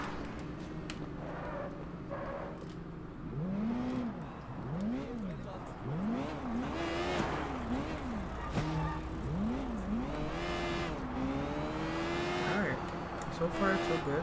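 Car engine in the Sleeping Dogs video game, revving up and down in repeated arching sweeps as the vehicle accelerates and shifts, with game music and effects layered throughout.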